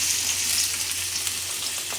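Chopped vegetables for Kerala-style paneer chilli frying in a pan, a steady, loud, dense sizzle with no talk.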